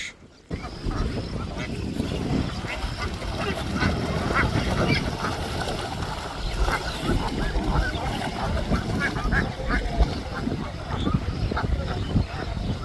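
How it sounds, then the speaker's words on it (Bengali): A flock of ducks wades in knee-deep water under a cloudy sky in rural Jamalpur, Bangladesh, their honking quacks overlapping in a busy, continuous chatter at middle distance. "এক পাল হাঁস"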